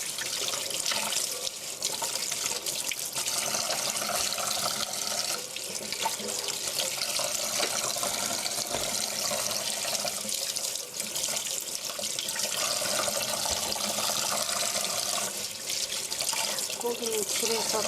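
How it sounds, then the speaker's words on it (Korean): Cold tap water runs steadily into a kitchen sink while chicken is washed under the flow, a continuous close splashing rush with small shifts as the meat is moved through the stream. "닭고기는 깨끗이 흐르는 물에 씻어주세요."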